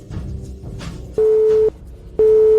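Telephone busy signal in two long, loud steady tones with a gap between, each beep lasting about half a second, over low background noise after an unreachable call.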